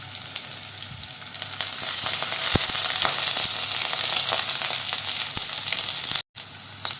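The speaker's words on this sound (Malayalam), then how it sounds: "അരിഞ്ഞു വെച്ചിരിക്കുന്ന ഉള്ളിയും അതുപോലെ തന്നെ വെളുത്തുള്ളിയുമാണ് നമുക്കിതങ്ങ് ചേർത്ത് കൊടുക്കാം അതോടൊപ്പം തന്നെ കറിവേപ്പിലയും ചേർത്ത് കൊടുക്കുന്നുണ്ട്" Chopped onion, garlic and curry leaves fry in a pan for a Thrissur-style Kerala lunch, a steady bright sizzle close by with faint scattered crackles, cut by a brief silent gap near the end.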